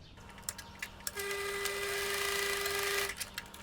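A sewing machine stitching a folded sleeve band for a puff sleeve dress, running in one steady two-second burst with a high whine, alone and fairly quiet between brief handling clicks.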